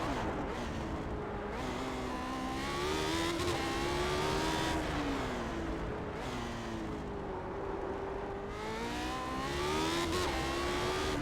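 A Lotus 79 race car at the Long Beach circuit drives with a loud, continuous engine drone that rises and falls through shifts and revs, heard from on board.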